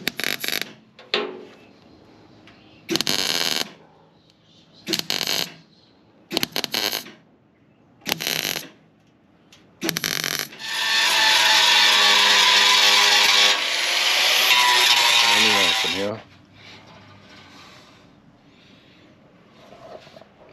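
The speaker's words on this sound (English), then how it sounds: "let's tack weld this plate in" Tack welding new steel checker plate into a trailer frame in a backyard: several short bursts of crackling welding, then one longer sustained weld run, close and loud, with no talking.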